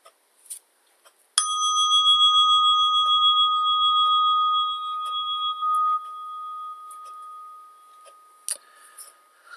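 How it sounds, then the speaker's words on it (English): A single bell is struck once and rings with a clear, sustained tone that slowly fades over several seconds in a quiet room. "We'll start at the sound of the bell."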